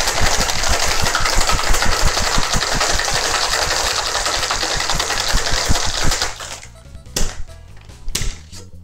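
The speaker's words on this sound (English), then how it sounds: "And now we just give it a good shake." A cocktail shaker filled with ice, gin and pomegranate is shaken hard, a fast rhythmic rattling clatter of ice for about six seconds, close and loud, then a few sparse knocks and taps.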